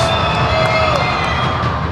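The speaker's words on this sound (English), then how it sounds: "Davis at the free throw line, crowd making noise" Basketball crowd noise during a college free throw attempt, a loud sustained roar of cheering and shouting with whistles and piercing voices cutting through the babble.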